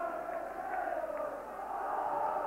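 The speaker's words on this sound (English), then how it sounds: "So Aberdeen get the game underway in front of a big noisy crowd here." Large football stadium crowd at Aberdeen versus Rangers keeps up a distant, continuous roar and chanting, a steady murmuring swell with no distinct voices standing out.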